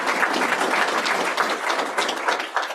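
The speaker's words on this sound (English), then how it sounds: "Round of applause, please." Audience applause at an evening board meeting, a steady, dense clapping from a sizable crowd that holds at full strength for nearly three seconds without talk.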